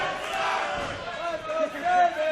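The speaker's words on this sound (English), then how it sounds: "And you can hear the crowd clearly fans of Sabin" Arena crowd at a 2014 pro wrestling match cheering for Sabin, a dense steady roar with rising swells of shouting, filling the whole stretch without a break.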